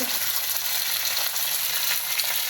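Mustard seeds and broken red chillies sizzling in hot oil for a South Indian coconut chutney tempering, a dense, bright, steady crackle and hiss heard close up without pause.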